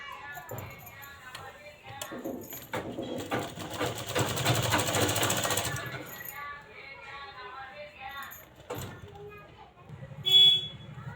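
A sewing machine stitches a cross strip onto a lined blouse in short bursts of rapid mechanical whirring, with someone talking between the runs.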